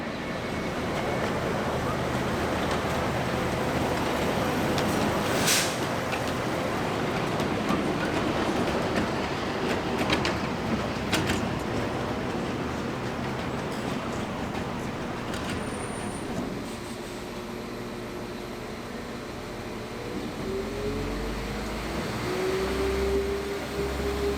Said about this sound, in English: The little ones can take an 8-minute ride on the tiny railway